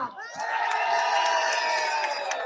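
A rally crowd at an outdoor women's-speech event in Perth cheers and whoops with applause mixed in, a short burst of loud, sustained crowd noise with shouting voices.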